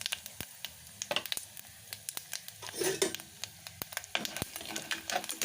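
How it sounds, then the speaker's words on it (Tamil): Tempering of toor, urad and chana dal with fenugreek, asafoetida, cumin and mustard seeds crackling in hot oil for kara kuzhambu, scattered sharp pops and spatters over a soft sizzle, fairly quiet and close. "துவரம்பருப்பு, உளுத்தம்பருப்பு, கடலைப்பருப்பு, வெந்தயம், பெருங்காயம், சீரகம், கடுகு போட்டு பொரிஞ்சிச்சு"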